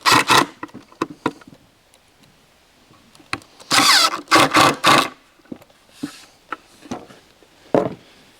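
A power driver sinks screws into a custom built-in wine and storage cabinet in a cottage kitchen, with short loud whirring bursts, one dense cluster in the middle and several brief spurts after, set apart by quiet pauses.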